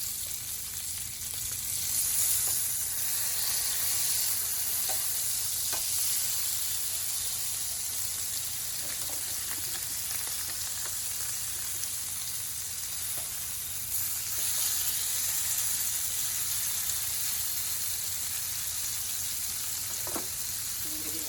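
Steady, hissing sizzle of rainbow trout frying in a pan, continuous and fairly close, with a few faint clicks and scrapes scattered through it and no talking.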